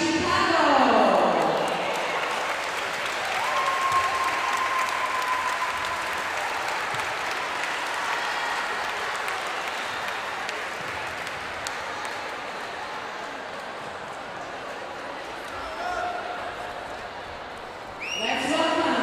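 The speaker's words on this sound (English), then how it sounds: "Big round of applause for VIP" Long, steady crowd applause at the Global Challenge 2018 U23 Brijuni Division finals greets the VIP Chicago team. It holds fairly even throughout, with an announcer's voice partly heard over the clapping.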